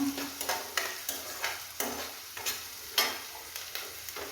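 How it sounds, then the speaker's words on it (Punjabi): Onions frying in a pan under rhythmic stirring, each scrape bringing a short burst of sizzle about twice a second, close and moderately loud, without speech. "ਤੇ ਆ ਦੇਖੇ ਤੇ ਪਿਆਜ਼ ਭੁੱਜਦਾ"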